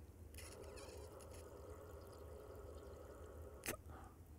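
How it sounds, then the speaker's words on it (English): Bubbles are blown through a porous piece of wood into water, giving a soft, fairly quiet gurgling and bubbling that is followed near the end by one sharp knock. "if I blow through it, something should come out, right? I should make bubbles."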